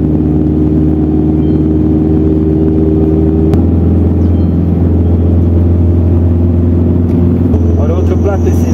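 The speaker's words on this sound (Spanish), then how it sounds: "Así que vamos a sacar el carro rápido" A car pulling away and driving off in the Quinua district of Ayacucho, heard as a loud, continuous engine and road rumble from inside the vehicle, with a sharp knock partway through and faint higher noises near the end.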